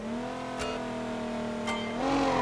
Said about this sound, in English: Just straight spins the tires